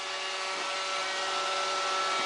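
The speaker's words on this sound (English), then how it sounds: "So if it vacuums every afternoon while you're at work" A Roomba robot vacuum cleaner runs with a steady, loud whirring hum that holds unchanged for the whole moment, with no voices.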